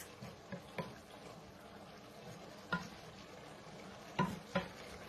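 Mixed vegetables being stirred in a covered pot, a few soft scraping and clinking spoon strokes spaced apart over a quiet low simmer, no talking.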